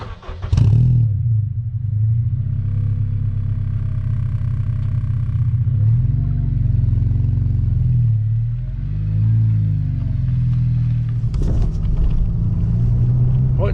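A Honda Integra DC5 Type R drives on country lanes, heard from inside the cabin as a loud, steady engine rumble with gentle rises in revs and a brief louder burst near the end.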